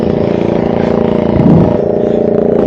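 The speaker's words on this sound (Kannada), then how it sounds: "ಈ ಬೋಟ್ ಸೌಂಡಿಂದ." A boat engine runs steadily and close by among a mangrove forest, a continuous droning hum with a brief swell in loudness midway and no voices.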